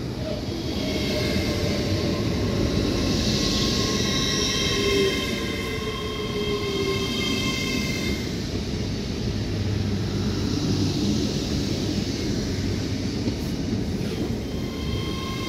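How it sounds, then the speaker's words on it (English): An LNER Azuma class 800 train arrives at Doncaster station with a steady rumble and hum of wheels and traction, a rising whine above, continuous and fairly close. "LNER Azuma, London North Eastern Railway, 800112, arriving here at the City of Doncaster station"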